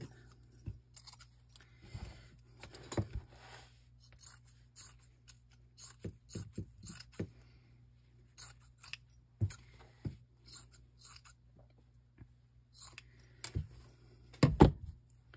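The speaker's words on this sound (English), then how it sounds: "I think I'm going to actually cut it in half in pieces" A laundry bag is cut with scissors in a quiet room, making a series of short, crisp snips and rustles spaced irregularly, with a louder cluster of cuts near the end.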